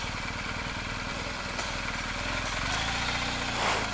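A BMW R 1250 GS motorcycle engine runs close and steady while riding, a pulsing mid-pitched thrum that shifts slightly in tone near the end, heard alone without talk.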